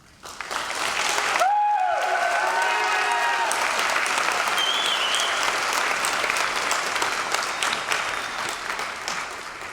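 A large crowd at a high school graduation bursts into sustained applause, dense clapping with a few whistles and calls, holding loud for several seconds before gradually easing.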